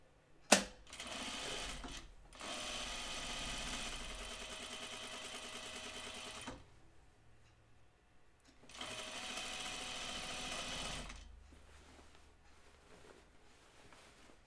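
A home sewing machine stitches a Deer and Doe Bleuet dress in two sustained runs of several seconds each, fairly quiet, with a sharp click at the start and a pause between runs.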